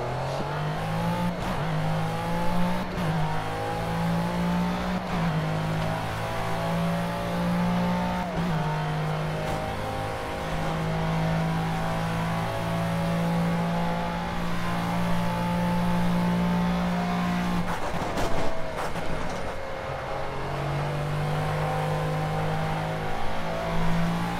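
A racing car in the Project Cars video game roars steadily around a track, its engine rising and falling through gear changes, with occasional tire squeal and no voices.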